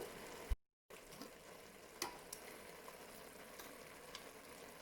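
Tomato purée being stirred into bolognese sauce in a Cookeo multicooker, a faint sizzle with occasional soft spoon knocks and a brief dropout near the start.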